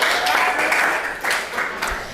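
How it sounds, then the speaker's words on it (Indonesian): A school audience of teachers or students claps at an academic coaching event, a short burst of uneven applause with several louder surges, fairly close, with some voices mixed in. "Tepuk tangan dong."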